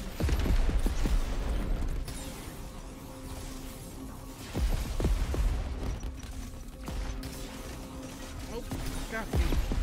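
Video game gunfire and grenade blasts erupt in uneven bursts of sharp cracks and heavier thumps, mixed with mechanical background noise at moderate loudness throughout.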